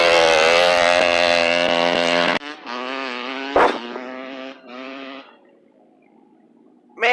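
Motocross motorcycles ride at a free-ride practice day in an open field: a loud, close engine drone holds steady, then drops to a rougher, varying tone with a brief sharp burst before fading to a quieter hum.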